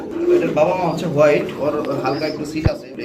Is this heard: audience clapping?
no